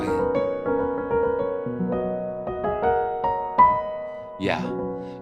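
A Spitfire Audio Originals Jangle Box Piano sampled instrument, modeled on a classic Abbey Road upright, plays a sequence of bright, jangly plucked notes and chords with a short rhythmic phrase, close and clear, with a brief vocal murmur near the end.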